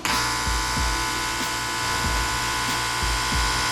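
Stick welding with a number 10 electrode in a fabrication shop: a steady, loud crackling buzz of the arc runs throughout, with a faint rhythmic low thumping beneath it.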